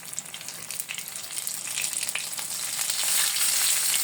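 Egg-coated pointed gourd slices frying in hot oil, a bright crackling sizzle close to the pan that grows slightly louder and denser as more slices go in, with no talk.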